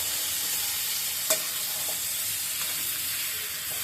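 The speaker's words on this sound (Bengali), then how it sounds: "এবার চিকেনটা ছেড়ে দিলাম। বাস, এবার কষাবো আর কষাবো" Chicken stir-fried in a pan gives a constant loud sizzle and hiss, with a sharp clack of a utensil partway through and faint stirring scrapes.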